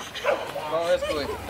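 A dog gives short, high yelps and whimpers during an Easter grill party, close by and mixed with people talking.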